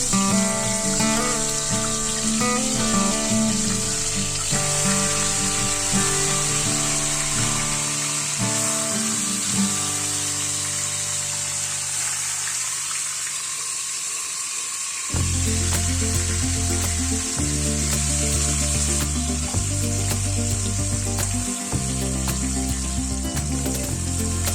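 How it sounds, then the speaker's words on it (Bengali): A fish head fries in mustard oil in a wok for Bengali moong dal, giving a constant hissing sizzle that runs throughout beneath loud background music with steady tones. "এবার মাছের মাথাটাকে আমরা ভেজে নেব।"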